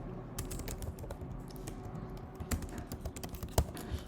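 An email subject line being typed on a computer keyboard: a quiet, continuous patter of key taps with a few sharper presses toward the end, no talking.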